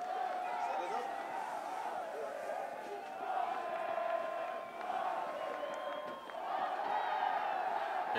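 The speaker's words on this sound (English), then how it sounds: "And you can hear the crowd getting crazy right now." A crowd at a high school boys' soccer match roars and cheers in a sustained wash of voices during a free kick, loud and continuous, with a commentator talking over it.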